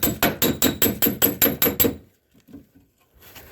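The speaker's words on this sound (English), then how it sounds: "we're going to take our body tool here and just flatten that back out" About ten quick, evenly spaced metallic blows from a body tool flattening a bent Ford F-150 door handle part ring out in a rapid burst, followed by a few faint taps and quiet handling noise.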